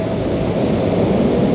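An LRT light rail train rumbles past close by, a loud, steady roar of wheels and rails that fills the whole moment without letting up.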